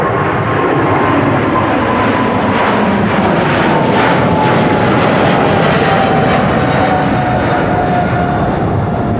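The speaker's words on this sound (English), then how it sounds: "Delta Airlines with an A350" A Delta Airlines Airbus A350 jet airliner at Amsterdam Schiphol makes a loud, sustained jet roar with a slowly shifting whine, close and continuous throughout, alone without voices.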